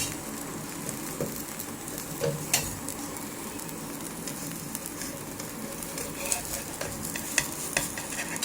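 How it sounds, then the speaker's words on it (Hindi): Roti frying with ghee on a hot tawa griddle, a steady close sizzle with scattered soft crackles and light taps throughout, no voices. "तवे के ऊपर इस तरह से रोटी को मैंने डाल दिया। अब इसके ऊपर घी ऐड करेंगे ऐसे।"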